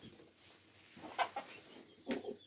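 Silkie chickens in a backyard coop in winter give two short, soft clucks about a second apart over quiet ambient background, with no talking.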